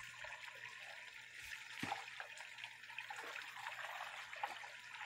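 Water trickles steadily through a small channel being cleared at a well site, a faint, continuous flow with a few soft knocks and splashes.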